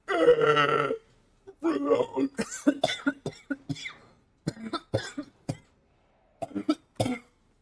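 A person coughs hard several times in a rapid, harsh series at close range, right after a short stretch of talking.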